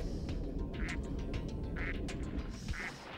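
Ducks quack in the video game Spyro 2: Ripto's Rage, three short nasal calls spaced about a second apart over a steady, busy background of game ambience.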